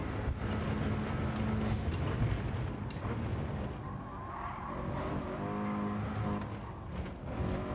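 Race car in a driving video game, engine revving hard and roaring continuously as the car spins toward the finish line, with tire squeal near the end.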